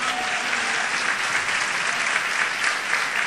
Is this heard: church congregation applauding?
yes